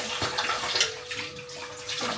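Tap water gushing under strong pressure into a bathtub or bucket at home, a loud steady rushing splash running throughout with slight surges.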